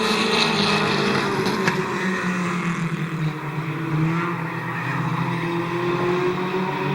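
Several race cars battling for position at Midvale Speedway, a loud sustained engine roar with shifting pitch as the pack circles the track.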